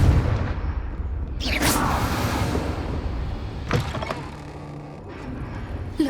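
A Confringo blasting spell explosion in Hogwarts Legacy, a loud booming burst with a sharp crack followed by rumbling debris, then a second sharper impact, over a dense, roaring game soundscape.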